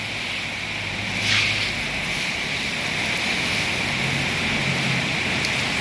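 Hailstones fall in Fang, Thailand, making a dense, steady hiss and patter on the surfaces around. The sound is even and continuous, with a slight swell early on.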